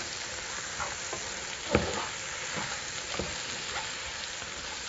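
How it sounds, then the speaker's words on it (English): Mushrooms, onions and celery frying in butter in a pan make a soft, even sizzle, with spoon scrapes and a light clink as the mix is stirred. "I'm going to stir this all up, really let these mushrooms and onions cook way down."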